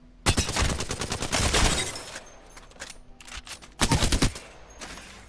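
The Alternator gun fires in Apex Legends in rapid automatic bursts: a long burst, a pause, several shorter bursts, then another dense burst. The shots are loud and sharp, with no talking.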